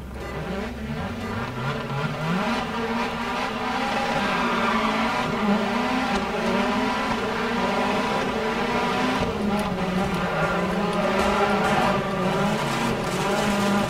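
Rally car engine in the Dirt Rally game during a rallycross race, a loud sustained roar with shifting revs held steady throughout, with other cars nearby.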